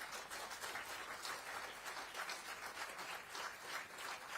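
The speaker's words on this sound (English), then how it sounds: "The claps don't just stop coming" An audience at a seminar in Covai breaks into dense, continuous applause after a Ramayana dance performance, many hands clapping at a steady, even level with no voices on top.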